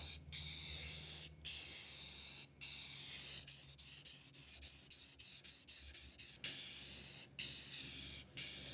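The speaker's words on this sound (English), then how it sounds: "This high heat paint always just goes on so easy and smooth, at least the flat black." Flat black high heat spray paint hissing out of a can in long close bursts, separated by brief gaps and a stretch of short rapid taps on the nozzle.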